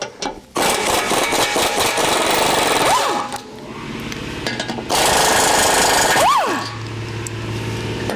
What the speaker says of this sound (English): There's just 4 bolts that hold this on, 2 on this side and then 2 in the back. This is just a 15mm socket.